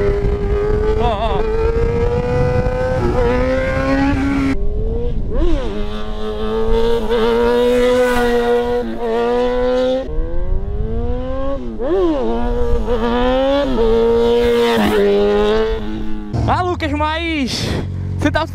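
A Yamaha XJ6 motorcycle pulls away and shifts up through the gears, the engine note rising loud and close in repeated climbs with brief dips at each change, while people talk over it.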